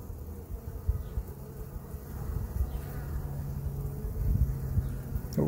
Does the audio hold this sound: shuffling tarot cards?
no